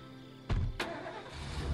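A car engine starts in the video game State of Decay: two short, loud cranking bursts, then the engine catches into a low, steady rumble close by.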